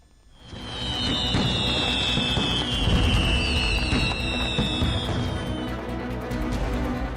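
Diwali firecrackers go off in Delhi: shrill rising whistles streak over a dense, continuous crackle and popping of bursts that swell after a quiet start and stay loud to the end, with no voices.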